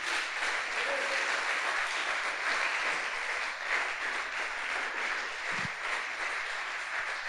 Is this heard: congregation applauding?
yes